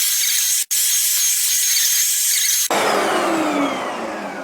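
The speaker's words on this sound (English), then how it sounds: "this tough stain removing tool is better at vacuuming up the fluid" A BISSELL ProHeat 2X Revolution Pet Pro carpet cleaner with its tough stain tool gives a loud continuous suction hiss, broken by two brief cutoffs, then shifts to a wetter, gurgling suction as fluid is drawn up.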